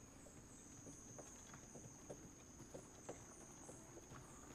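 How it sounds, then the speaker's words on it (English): A horse-drawn cart approaches, its clip-clopping hooves faint and regular, a steady plodding rhythm over a constant hiss and whine. "you actually hear a cart with a horse start to head your direction."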